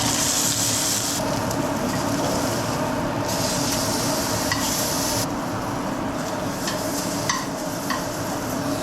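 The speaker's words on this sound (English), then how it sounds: "So the pan's smoking just a little tiny bit. So we're just gonna throw our steak in." Steak searing in a hot, lightly smoking pan, a loud continuous sizzle that swells and eases with scattered crackles and pops throughout.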